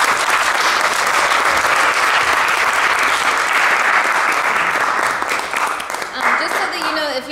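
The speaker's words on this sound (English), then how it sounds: "Let's give everyone a round of applause" Warm applause from a recital hall audience after an honors recital, a steady full wash of clapping that eases slightly toward the end as a voice starts to speak.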